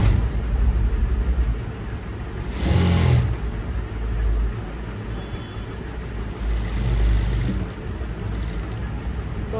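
A sewing machine stitching cloth while finishing a simple co-ord set hums steadily for the whole stretch, a low continuous motor drone with a few slightly louder surges.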